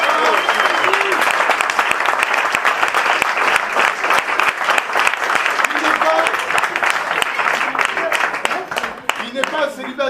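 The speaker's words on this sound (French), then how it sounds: "un triomphe d'applaudissements" Sustained audience applause at a French improv comedy show, dense and steady clapping from a sizeable crowd filling the room throughout, with faint voices and cheers mixed underneath.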